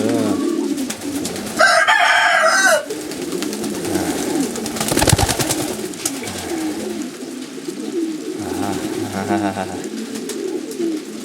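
Modena pigeons fill a large pigeon loft with loud, close cooing and burbling calls, layered and continuous, with bursts of wing flapping and a brief flurry near the start.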